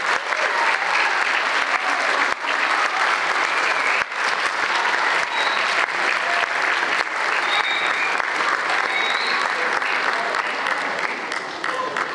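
A large school concert audience at a spring band performance applauds steadily, a loud dense wash of clapping that holds without a break, with some voices mixed in under it.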